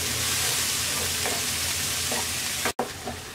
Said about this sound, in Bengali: এবার এই মশলাটাকে আমরা এভাবে নাড়াচাড়া করে 2-3 মিনিট ভেজে নেব।